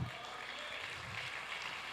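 Applause from a church congregation during a service, a brief, even stretch of many hands clapping, heard from some distance and holding steady without pause.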